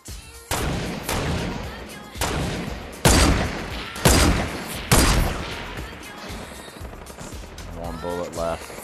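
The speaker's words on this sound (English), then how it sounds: "I might be able to hit this guy with the snipe." Sniper rifle shots in Fortnite ring out as several loud, sharp cracks about a second apart, each with a decaying tail, followed by quieter game sounds.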